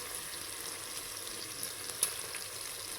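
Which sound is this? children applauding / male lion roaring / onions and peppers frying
onions and peppers frying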